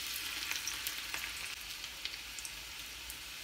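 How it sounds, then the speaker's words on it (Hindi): Chopped garlic, three cloves, sizzling in five tablespoons of hot oil in a pan, a bright steady frying crackle with scattered sharp pops, close and alone. "मैंने यहाँ पर एक पैन में 5 टेबल स्पून ऑयल हीट कर लिया है। इसमें हम ऐड करेंगे 3 क्लव्स ऑफ चॉप्ड गार्लिक।"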